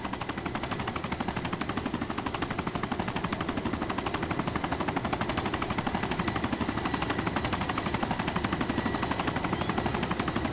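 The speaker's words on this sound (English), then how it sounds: "I'm starting the heli up" Helicopter in the video game DayZ, its rotor thumping in a fast, steady rhythm with a constant engine whine, loud and close for the full stretch, with no talking.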